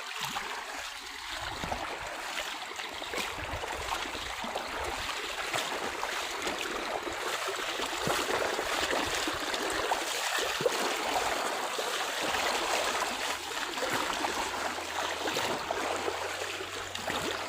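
Steady rushing of water flowing through a field channel, continuous and fairly loud throughout, with no voices.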